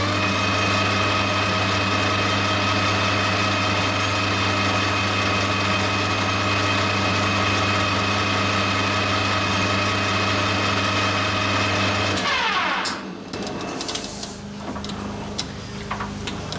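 Metal lathe facing a part for a model .60 glow plug engine: a steady motor hum with a fine cutting whine for about twelve seconds, then the machine stops and small handling clatter follows.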